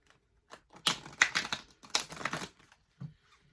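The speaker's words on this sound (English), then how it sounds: "I did think that you guys would enjoy seeing me shuffle on the camera" A deck of tarot cards being shuffled by hand, giving several quick papery riffling bursts close by, with a short soft tap near the end.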